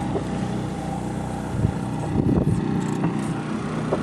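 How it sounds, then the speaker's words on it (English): Sailboat motoring under engine power along the Pacific coast between Monterey and Moss Landing, a steady droning hum with wind buffeting the microphone and no speech. "I've been using the engine"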